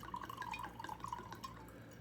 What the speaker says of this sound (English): Okay, poured the drink.